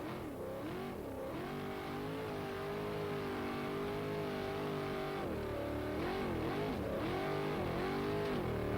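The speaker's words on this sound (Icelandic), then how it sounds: "Lætin og aflið í bílnum." Rally car engine revving hard at a Jósepsdalur hill-climb event in Iceland, 1997, a loud, steady roar with rising and falling pitch swells throughout, heard up close with no talk.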